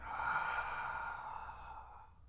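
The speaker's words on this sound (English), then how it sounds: "Really just focus on breathing out." During a floor exercise workout, one long, breathy exhale is pushed out steadily and close, slowly tapering off with no speech.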